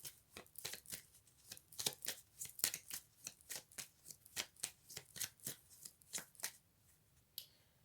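Tarot cards being shuffled by hand, a long run of quick, crisp riffling slaps in an irregular rhythm, close but soft, with no voices.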